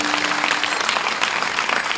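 A kirtan audience claps steadily and densely for the full two seconds, a continuous wash of many hands with no voices on top.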